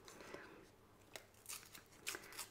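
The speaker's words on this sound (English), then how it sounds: "I'm going to rip this" Washi tape is ripped by hand in a few quick, faint tearing and crinkling bursts close by, with soft paper handling between them.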